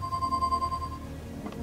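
A phone rings in the video game Leisure Suit Larry: Wet Dreams Dry Twice, a short electronic tone heard once, clear against a low background hum.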